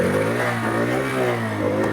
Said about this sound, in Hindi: मैं एक्सीलरेटर करता हूँ यहाँ से।